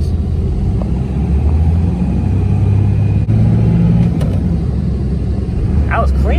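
Manual Dodge Ram 2500 with the 5.9 Cummins diesel downshifting into second gear, a steady loud low engine rumble throughout with a brief dip mid-shift, heard from inside the cab.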